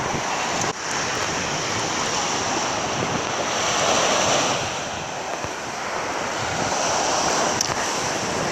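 Baltic Sea surf washing onto a sandy beach at Sopot, a steady broadband roar with slow swells in loudness, mixed with wind buffeting the microphone and no speech.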